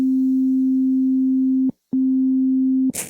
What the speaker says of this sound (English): this is just with a sine wave